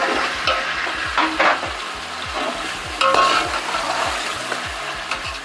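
Chicken is stirred with spices in a pot for degi chicken biryani, giving steady scraping and mixing strokes over a continuous close sizzle of frying.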